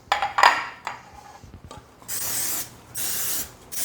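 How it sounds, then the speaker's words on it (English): A few short hissing bursts of cooking spray into metal muffin tins, separated by pauses, after some clinks and scrapes of the pans up close. "I want to make sure I spray each one of my tins really good."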